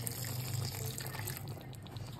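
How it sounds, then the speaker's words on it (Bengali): A small amount of hot water is poured into a pan of chicken that has been cooked down with spices. It makes a short, fairly quiet splashing pour heard up close, with no speech. "এবার সামান্য একটু গরম জল দেবো"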